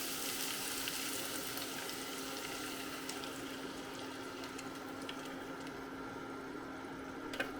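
Beaten egg mixture poured over garlic and asparagus in a hot pan, producing a steady, moderate frying sizzle throughout, with a faint clink near the end.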